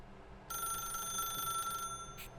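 A ringing telephone in The Stanley Parable Ultra Deluxe trills steadily with a bright electronic bell tone for about two seconds, then a short second burst follows before an abrupt loud noise at the very end; no one speaks.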